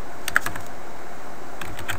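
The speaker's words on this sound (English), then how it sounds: "what you do is you type in a username" Computer keyboard typing while entering a username and password into a Cisco router setup: a few quick key clicks near the start, a pause, then another short cluster of taps, close and fairly crisp with no talk.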